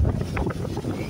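Strong wind after a storm by the sea buffets the microphone in loud, low, gusty rumbles, steady and close with no speech over it.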